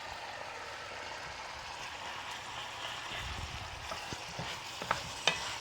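Four cloves of chopped garlic fry in a pan with a steady, close sizzle, while a few sharper pops and utensil clicks rise near the end.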